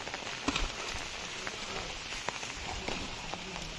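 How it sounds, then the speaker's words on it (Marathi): Steady rain patters on a surface in the Konkan region of India, an even hiss with occasional distinct drips, fairly faint and without voices. "पाऊस थोडा कमी झालेला आहे."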